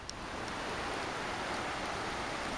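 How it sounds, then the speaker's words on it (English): Light rain falls outdoors at a wilderness campsite, a soft, even hiss of drizzle that stays steady and faint throughout with no voices. "Rain coming down again, and lots of thunder"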